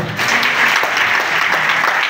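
A church congregation applauds at a morning recollection session, dense, loud and continuous clapping that fills the room without pause.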